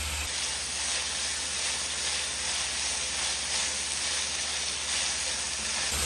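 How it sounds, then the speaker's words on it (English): Steak bites searing in a hot pan, a steady, even sizzle and hiss lasting throughout, close and moderately quiet with no voices. "once it's perfectly seared, you're gonna be able to flip it over"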